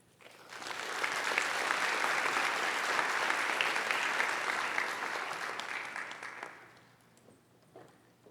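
An indoor lecture audience claps to welcome the speaker. Dense applause swells quickly, holds steady for several seconds, then tapers off and fades out.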